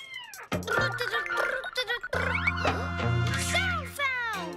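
Cartoon cat meowing in a children's animated show, several drawn-out, pitch-bending meows mixed with music and character voices.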